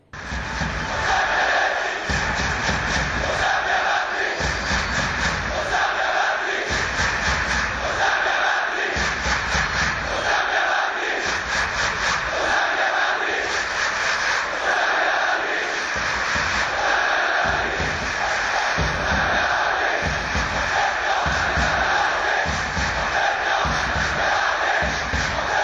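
A packed football stadium crowd chants loudly and continuously, a rhythmic mass of voices with regular pulsing beats throughout, distant and reverberant, with no clear talk over it.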